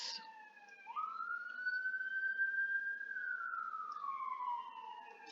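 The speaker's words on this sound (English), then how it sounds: "I'm waiting for that police car to go through." A police car siren wails steadily, rising and falling in long sweeps as it passes at a moderate distance, with no other sounds over it.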